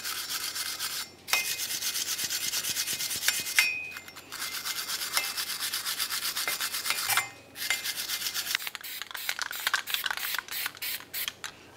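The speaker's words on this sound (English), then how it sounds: "Now we'll continue on with a wire brush." Wire brush scrubbing a front wheel hub on a 2000-2006 Chevrolet Tahoe, working between the studs and the center: close, harsh rhythmic scratching strokes in repeated bursts with short pauses, and rapid back-and-forth scraping toward the end.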